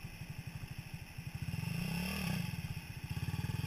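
A motorcycle engine pulses close by in rapid, even thumps, then swells as it accelerates away in first gear before settling back into its steady beat.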